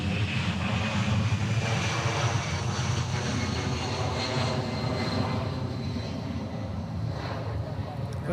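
A steady, loud jet engine roar from an Airbus A380 airliner taxiing or departing at Honolulu airport, continuous and broadband throughout with some wind buffeting on the microphone.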